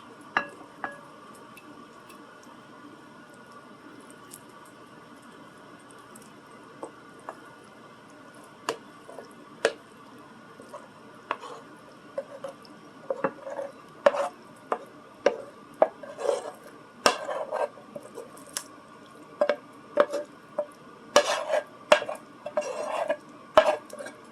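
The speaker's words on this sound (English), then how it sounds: "I'm going to carefully put the meat into the dish." Cooked shepherd's pie meat spooned into a baking dish, with repeated scraping and clinking of a utensil against the dish, growing busier toward the end, over a quiet kitchen hum.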